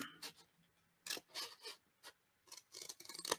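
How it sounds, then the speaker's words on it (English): Scissors snipping through paper to cut out an inside rectangle for a shaker card, a series of short, close, quiet crisp cuts with brief pauses between them and no talking. "I'm going to take my scissors and I'm going to put it as close to the line as I could get and just poke a hole"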